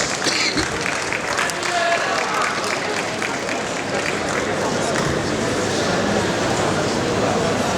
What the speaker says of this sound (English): Let's applaud Mama as she comes.